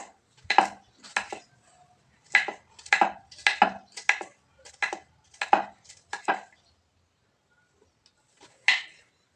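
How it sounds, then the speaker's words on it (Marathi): A knife chops bottle gourd into small pieces on a board, sharp close knocks coming in quick bursts with short pauses between and one last chop after a gap, with no voices. "तर अशा पद्धतीने मी सगळा भोपळा चिरून घेते"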